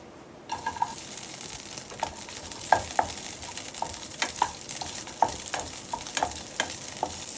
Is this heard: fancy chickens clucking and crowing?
no